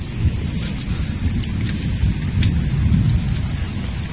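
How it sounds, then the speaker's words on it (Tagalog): Heavy rain pours outside a house during a storm, loud and steady with a rumbling low roar of thunder and scattered sharp drop impacts, continuous and close throughout. "Sobrang lakas ng ulan na yun"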